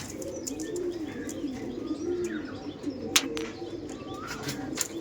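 Several Andhra flying pigeons coo in low, rolling calls, with occasional chirps and wing flutters, close by and steady throughout.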